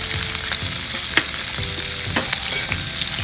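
Eggs sautéing in a pan with turmeric and egg masala make a loud, close, continuous frying sizzle, broken by a few quick scrapes and taps of the spatula.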